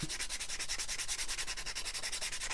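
Steady, rhythmic scratchy rasping of sandpaper rubbed back and forth over small wooden shiplap platter pieces on a tabletop, close and continuous with no pauses.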